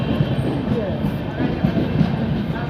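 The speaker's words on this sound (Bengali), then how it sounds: "এইটো নতুন ট্রেন চাইছে না মামা যে ওলাইছে ট্রেনটো এইটো ট্রেন হয়" A new local train passes near Barpeta Road station, a steady close rumble of wheels on rails with faint clattering, while someone talks over it.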